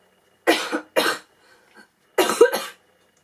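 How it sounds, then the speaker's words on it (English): A person coughs four times, close and loud, in two pairs separated by a short pause. "got a cough."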